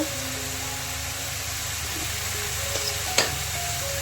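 Whisked sour yogurt poured into sizzling spice masala in a pan for a Bengali potato curry, a steady close frying hiss with a brief sharp crackle near the end.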